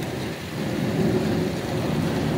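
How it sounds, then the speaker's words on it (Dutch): A low, rolling rumble of thunder swells and lingers amid rain during a thunderstorm in Zuidwolde, fairly loud and continuous with no voices. "dat was een bliksemschicht"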